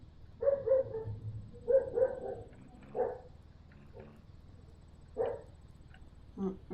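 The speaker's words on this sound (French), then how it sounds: "La chienne qui trouve que c'est le moment d'aboyer." A dog in the video game Ranch Simulator barks in several short bursts, a few spaced-out woofs over a low steady background hum.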